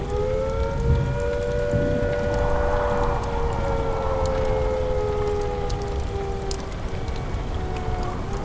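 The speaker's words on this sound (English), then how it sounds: "If an attack is suspected, the sirens will sound a rising and falling note like this." Civil defense attack warning siren sounding a rising and falling wail, a steady distant tone that swells and dips continuously over a hiss of background noise like rain.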